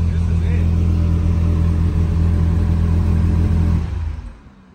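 A twin-turbo Dodge Viper street-legal race car runs with a steady, loud low rumble that holds evenly before dropping off near the end, with voices present.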